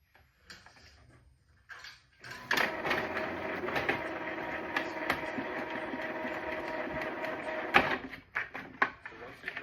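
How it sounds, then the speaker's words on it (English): An inkjet printer, opened up with its inner plate removed, whirs and rattles steadily for several seconds as its print head travels across during a nozzle check, with clicks at the start and end and faint talk nearby. "I turned on the printer, acted as though I was going to do a nozzle check just to move the print head over"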